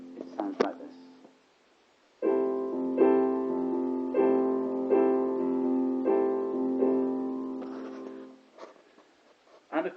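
A piano plays a major seventh chord voicing on F with the right hand, repeated in a steady pulse of about six strikes, ringing clearly; brief talking and small noises come before and after.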